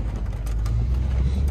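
A one-owner 1987 Ford Mustang 5.0 drives along with a steady low engine rumble heard from inside the car, with no talk.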